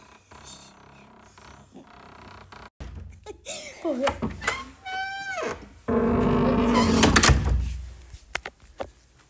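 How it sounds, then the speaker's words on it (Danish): A creaking door swings open indoors, its drawn-out squeals rising and bending in pitch, with knocks and rattles of the door and people talking around it. "Okay, og den her dør, den knirker. Du åbner døren."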